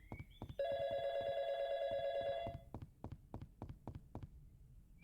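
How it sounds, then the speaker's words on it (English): In the video game Y2K, a telephone rings with a sustained electronic tone lasting about two seconds. A steady series of soft clicks or taps runs underneath it and continues after the ring stops. "I recognize that phone call sound."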